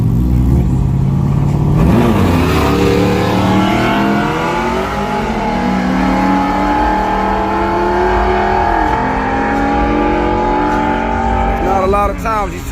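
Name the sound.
truck and motorcycle racing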